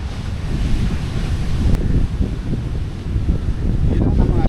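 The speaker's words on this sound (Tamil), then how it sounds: "அலையை பார்த்தாலே தெரியுது கடல் சீற்றம் பயங்கரமாக இருக்கும்னு" Rough, surging sea waves break continuously at Kulachal beach, a broad, loud roar of surf mixed with heavy wind buffeting the microphone throughout.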